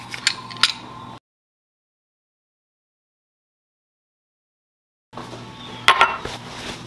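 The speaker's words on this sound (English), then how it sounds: "we're going to start off with mincing our garlic" Garlic being minced with a knife on a cutting board for a bok choy and tofu dish: quick close chopping taps in two short bursts separated by a long silent gap.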